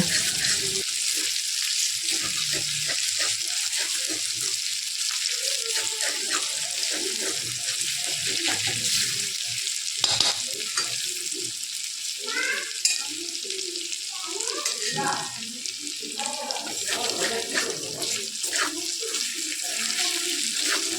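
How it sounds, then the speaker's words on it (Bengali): Ginger, bay leaf and dried red chillies frying in a pan for a meatless chana dal, a continuous close sizzle broken by frequent spatula scrapes and knocks, with faint background voices now and then. "এখন সেই আদা, তেজপাতা, শুকনো লঙ্কা এইটাকে বেশ ভালো করে আমি বেশ ভেজে নেব"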